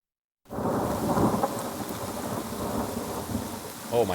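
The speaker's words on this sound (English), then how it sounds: "Oh my god, rain effects." Steady rain with rolling thunder in the PlayStation-era game Vandal Hearts, played on Sega Saturn hardware: a loud, continuous downpour with deep rumbles, starting abruptly after a brief silence.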